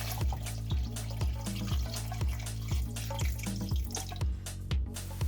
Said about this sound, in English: Pour enough water to cover pork belly.